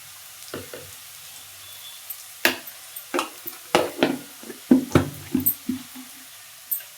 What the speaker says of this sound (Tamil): நல்லா வெங்காயம் வதங்கிருச்சு